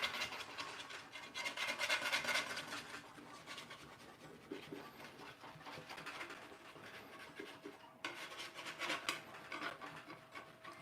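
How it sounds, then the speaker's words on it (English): A scraper rubs and drags steadily around a bowl or board while quick puff pastry dough is worked, a soft continuous scratching close by with no speech. "Scraping around, scraping around."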